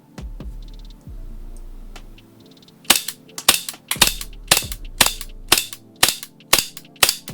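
A Tyrant 2011 gas blowback airsoft pistol empties a full magazine: after a few soft clicks and a low hiss, about nine sharp, snappy cracks ring out close up in a quick, slightly uneven rhythm, with no talking.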